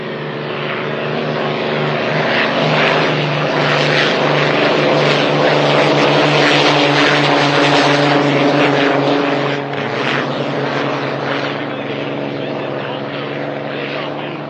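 Hydroplane race boats at the Apollo Columbia Cup roar past in a loud, tonal engine howl that swells toward the middle, then eases and lingers as a sustained drone.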